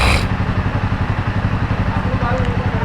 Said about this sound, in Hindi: बाइक सीधी अंदर चली जाती है मेरी मस्त एकदम तरीके से